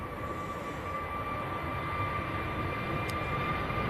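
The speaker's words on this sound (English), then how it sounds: "There we go, EasyJet A380 Neo" An EasyJet A380 Neo airliner passes at Manchester Airport, a steady droning engine hum with a sustained whining tone, moderately loud and unbroken.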